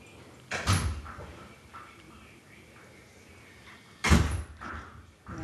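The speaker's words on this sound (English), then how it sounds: "door is slamming in the background" A door slams twice indoors in the background, two sharp loud bangs a few seconds apart, during a baby feeding at home, with a low room hum between them.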